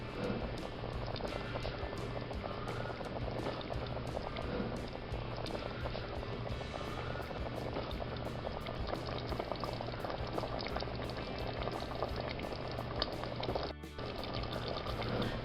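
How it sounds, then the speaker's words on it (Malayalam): Mutton curry simmers and bubbles in a pot, a steady soft boiling hiss with continuous fine popping throughout, faint and close. "അപ്പോൾ ഇപ്പോൾ ഒന്നുകൂടെ ഞാൻ നന്നായിട്ട് തിളപ്പിക്കുകയാണ്."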